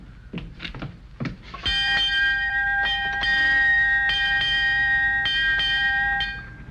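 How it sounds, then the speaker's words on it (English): A bell rings in a steady series of clear, resonant strikes, each sustaining and overlapping, after a few soft knocks at the start. "Eight bells, time for the northbound stage."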